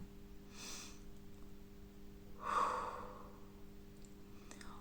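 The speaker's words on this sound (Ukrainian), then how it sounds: "короткий вдих носом, довгий плавний видих ротом." A short nasal inhale followed by a longer, smooth exhale through the mouth, demonstrated as a speech-breathing exercise; the breaths are soft and close against a faint steady hum.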